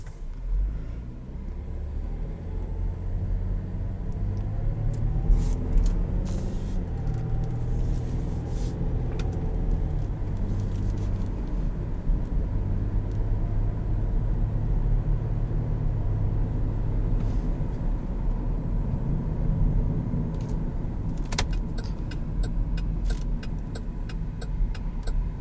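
Interior view of a 2017 Buick Enclave on the move, its GM 3.6 engine giving a steady low rumble with road noise throughout, occasional light clicks and rattles on top, no talking.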